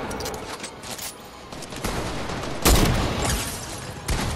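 Gunfire in an online shooter game, a burst of shots with one heavy loud blast near the middle and another near the end, over continuous game noise with no talk.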